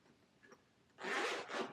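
A zipper on a case for an E-Flite UMX Aero Commander RC plane is pulled open in a quiet room, giving one short, soft zip followed by a second brief pull.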